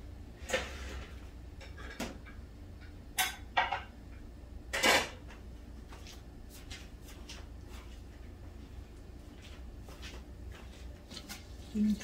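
Onions being mixed in a cooking pot for mutton yakhni pulao: sparse metallic clinks and scrapes of a spoon against the pot, some sharp and close, over a quiet background hiss.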